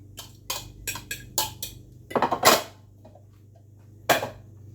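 Chopped shallot tipped into a pan while cooking creamy fish fillets, heard as a run of sharp clinks and taps from a spoon against the pan, then a brief scraping flurry and one last knock.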